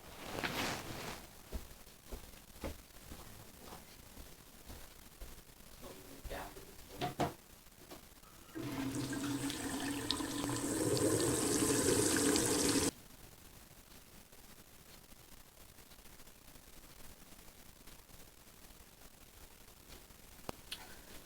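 Water pours steadily from a tap for about four seconds in a quiet room, the rush starting and stopping abruptly between faint handling clicks and small bumps.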